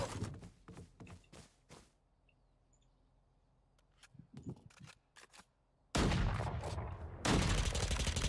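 A quick series of sharp gunshots in a Valorant match, a short lull, then louder, sustained blasts of gunfire near the end.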